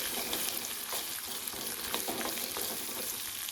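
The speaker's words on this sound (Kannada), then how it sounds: "ಈಗ ಇದು ಬೆಳ್ಳುಳ್ಳಿ ಹಾಕೋತೀನಿ ನಾವು" Garlic sizzles and crackles in hot tempering oil for churumuri, a steady close-up frying hiss with faint stirring clicks throughout, no voices.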